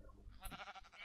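Sheep bleating in the Minecraft video game, a short wavering bleat over soft background game sounds, fairly quiet.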